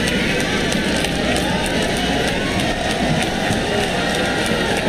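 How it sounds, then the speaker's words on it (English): Basketball crowd at a UAAP Final Four game between Ateneo and FEU, a dense, continuous roar of cheering that fills the whole stretch evenly at high volume. "You can hear the crowd cheering on."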